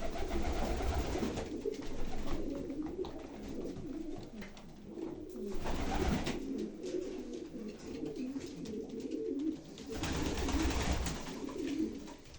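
Pigeons cooing inside a breeding loft, low rolling calls rising and falling in waves, with a few birds louder and nearer at times against a constant murmur of others.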